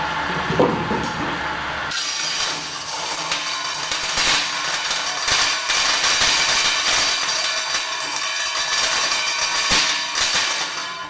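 A steady, rasping power saw blade cuts through nail-studded wood, loud and continuous, with a brief clunk near the start and no talking.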